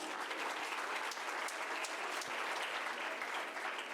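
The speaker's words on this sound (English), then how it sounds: "Let's give her a resounding applause." Audience applause at a women's college graduation ceremony in Bangalore: steady, dense clapping from a large crowd fills the whole stretch at an even level, with no voices on top.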